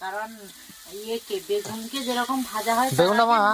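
Eggplant frying in oil in a covered pan gives a steady sizzle that runs beneath continuous voices talking close by.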